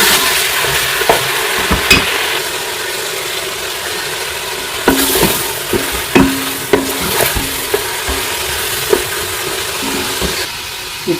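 Mutton pieces dropped into hot oil with onion and garlic, a steady loud sizzle with clinks and scrapes of stirring punctuating it, no talking.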